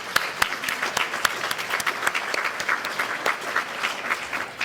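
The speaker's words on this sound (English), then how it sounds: "Let's give them all a round of applause." An audience at an awards lunch gives a sustained round of applause, steady crowded clapping with sharp individual claps standing out throughout.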